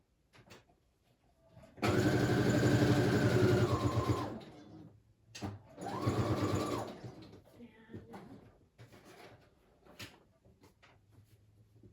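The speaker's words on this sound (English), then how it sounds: "But I am just sewing right down the center." A sewing machine stitches faux leather in two bursts, a long steady whirring stitch down the center followed by a shorter one, with quiet handling noises in between.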